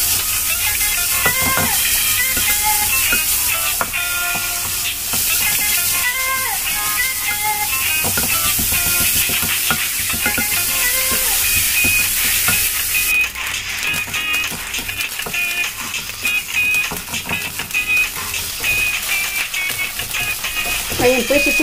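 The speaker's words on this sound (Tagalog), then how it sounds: "Maglalagay po muna tayo ng kaunting butter. And then, lalagay natin yung ating minced pork." Minced pork fries in melted butter in a pan for spaghetti, giving a loud, steady sizzle and crackle that continues without a break from start to finish.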